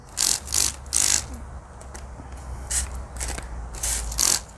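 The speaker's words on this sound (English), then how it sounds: "I'm just gonna spray the leaves really well." Neem oil sprayed onto amaryllis leaves from a hand pump bottle, several short hissing bursts in uneven bursts with brief pauses between, close and fairly loud.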